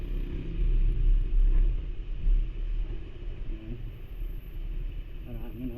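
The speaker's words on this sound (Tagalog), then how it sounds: "Para ako nabibingi kung marinig yung sounds ng motor ko" A motorcycle engine drones steadily on the road to Daranak Falls in Tanay, Rizal, producing a low, continuous rumble with a faint buzzing edge that holds throughout, with a voice faintly present at moments.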